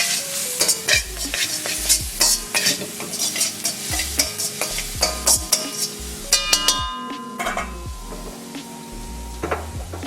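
Food fries in a pan with sesame oil, a steady close crackling sizzle broken by repeated scraping and knocking of a utensil stirring against the pan, with no voices.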